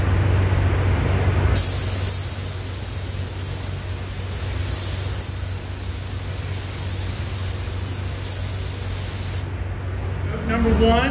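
A spray gun lays a coat of car paint over primer on a BMW, a steady, loud broadband hiss that starts abruptly after a moment and runs unbroken for about eight seconds before cutting off.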